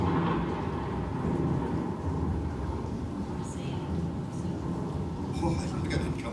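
Heavy rain pouring down with rumbling thunder, a steady dense wash with low rolling swells, heard through a show's sound system while someone speaks over it.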